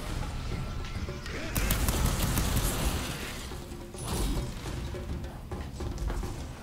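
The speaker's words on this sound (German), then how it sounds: "ein Sturmgewehr. Hohe Reichweite." Assault rifle fire in the game Fury Unleashed, loud rapid bursts of shots clustered in short volleys over a steady din of game sound, with a few sharper cracks near the end.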